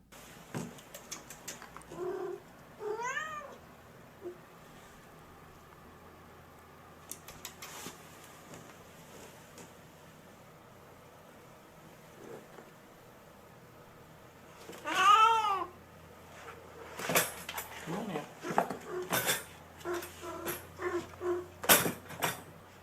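A cat with rabies meows in several strained, wavering cries spaced apart, with quieter scuffling and thumps between them and a cluster of louder knocks and rustles near the end.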